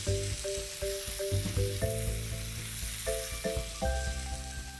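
Chicken breasts frying in a pan of melted butter and oil give a steady, close sizzle with crackling pops throughout, and faint clinks sit beneath it.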